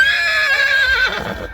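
A horse at the Anthiyur animal market gives a loud, close, high quavering whinny that descends and fades over a second and a half.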